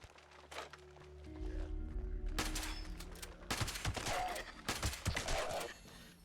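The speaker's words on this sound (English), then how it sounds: "Shotgun with suppressor is the win" Suppressed shotgun fire in the video game Fallout 76, several sharp muffled blasts in quick bursts over game ambience, with footsteps and other game sounds around them.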